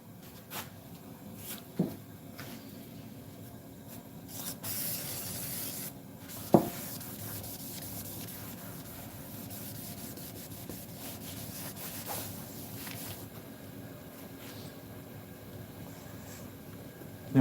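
Brake parts cleaner is sprayed in a short hiss and rubbed across the dash of a 1964 Cadillac being recovered, giving quiet scrubbing and wiping sounds with a few sharp knocks and clicks nearby.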